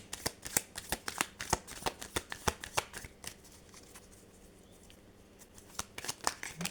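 Oracle cards shuffled in quick, crisp riffling flicks, a steady run of soft slaps that pauses briefly before resuming; quiet and close, with no talking.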